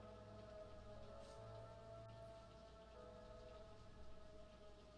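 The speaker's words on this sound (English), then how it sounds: "Oh my god, it's raining hard." Heavy rain falls in the video game Fourth Time Around, a faint steady patter under a bed of sustained music tones, continuing evenly throughout.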